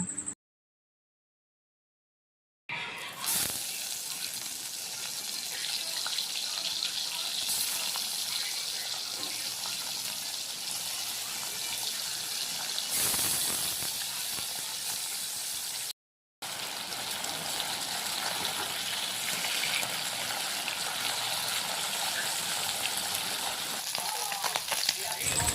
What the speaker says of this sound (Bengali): এখন আমি মাছগুলো ভাজব মাছগুলো হলুদ ও লবণ দিয়ে ভালোভাবে মেখে নেব